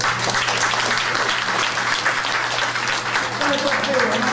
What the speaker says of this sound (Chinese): 我们是不是为严盛彦大师热烈鼓掌？